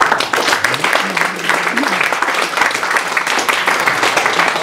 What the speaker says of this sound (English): give our VC Dealmakers a round of applause